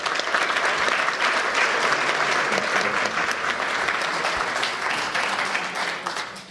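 Audience at an international law and religion symposium plenary session applauds at the end of a talk, a steady wash of many hands clapping that holds evenly throughout before tapering slightly at the very end.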